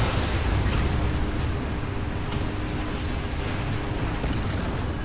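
Artillery shells pound a tank in the War Thunder video game, a loud, continuous roar of blasts and rumble that stays heavy and dense for the whole stretch.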